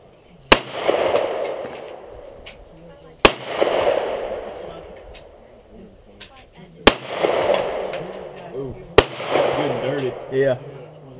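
Four sharp CZ pistol shots fired at a bottle, each crack spaced a few seconds apart and trailing into a long echo, with people talking in between.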